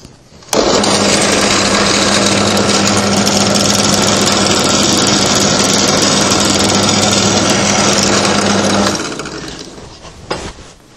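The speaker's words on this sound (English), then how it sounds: "I'll also drill a cross hole" A loud, steady mechanical whine and grinding of a drill cutting a cross hole through a metal tube, running continuously for several seconds before spinning down.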